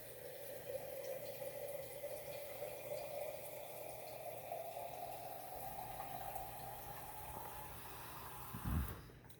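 Cold water pours steadily into a glass jar while making switchel, a steady filling rush that slowly rises in pitch, ending with a brief clunk near the close.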